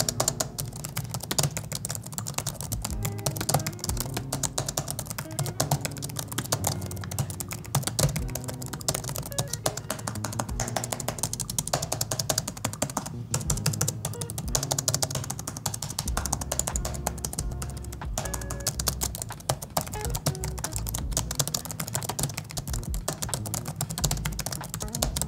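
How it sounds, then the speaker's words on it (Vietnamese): Steady, continuous typing on the keyboard of a Lenovo ThinkPad P16s Gen 2 laptop, close and clear, a dense run of key clicks lasting throughout with no talking. "mình sẽ thử gõ một đoạn để các bạn có thể nghe âm thanh cho ra từ hệ thống bàn phím của ThinkPad P16S Gen 2"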